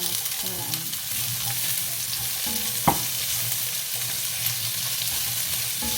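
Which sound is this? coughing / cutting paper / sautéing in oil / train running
sautéing in oil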